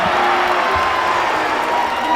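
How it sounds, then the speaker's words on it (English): A basketball crowd in Windsor roars steadily in a full arena, a loud, continuous wash of cheering and clapping that holds at the same level throughout with no pause. "And the crowd right back into it here in Windsor."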